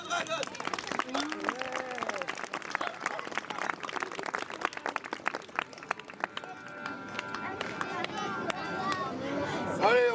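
An audience at the Bouxwiller witch festival in 2025 applauds a fire-master show, with scattered claps running through dense crowd chatter and a voice speaking over the top.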